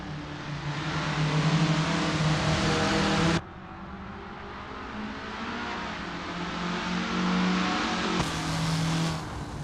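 A field of Formula Ford race cars roars off the start at Brands Hatch in Assetto Corsa sim racing, engines revving loudly together, with an abrupt cut to a slightly quieter engine drone and another shift near the end.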